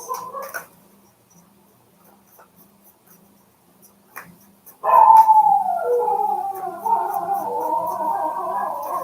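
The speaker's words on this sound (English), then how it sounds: "whatever it is, crying of the dog." Dog crying indoors late at night: a few faint whimpers early on, then a louder, drawn-out wavering howl-like whine that keeps going to the end.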